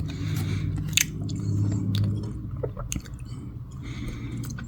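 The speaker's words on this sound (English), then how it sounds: "Sorry for the noise, or for the chewing. I'm eating a little fruit." Close, wet chewing of Tootsie fruit chews continues steadily, with soft squishy bites and smacking over a low background hum.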